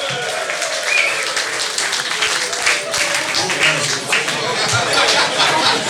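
Audience applause rings out at the prize ceremony of a Dutch carnival song contest, steady dense clapping mixed with crowd chatter and a few laughs, sustained for several seconds.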